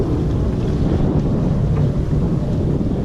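Steady wind roar with rushing water and a low rumble, continuous and fairly loud, as a sailboat moves along under three reefs.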